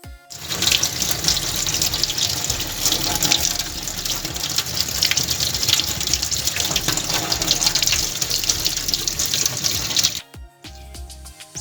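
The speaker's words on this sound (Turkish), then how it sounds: "ılık suyla durlama aşamasına geçebiliriz" Lukewarm tap water runs steadily into a sink while gold jewelry is rinsed beneath it, a loud continuous close splashing for about ten seconds before cutting off abruptly.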